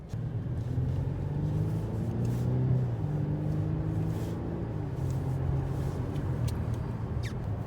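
A Mercedes car accelerates steadily from inside the cabin, a low engine drone rising in pitch with road rumble throughout and no talk.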